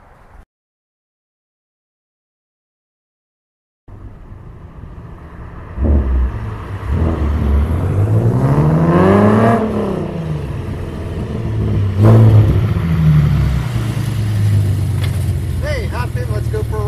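A Hot Wheels ride-along car accelerates hard. The loud engine roar climbs and falls through rising revs over a rumbling base, following a brief sound and a few seconds of silence.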